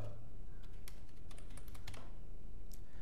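A mobile number is keyed in on a computer keyboard: a short burst of separate clicky keystrokes, close and fairly quiet over a steady background hiss, ending with one last tap.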